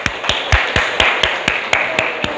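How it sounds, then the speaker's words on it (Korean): Congratulatory clapping in a church during a harvest thanksgiving service, crisp evenly spaced claps about four per second, loud and close. "우리 이분들을 위해서 한번 축하 박수 한번"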